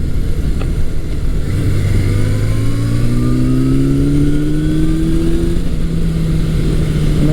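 A 1982 Suzuki GS750E motorcycle pulls hard on a test ride, its engine note rising steadily as it accelerates through the gears, loud and continuous with no talking.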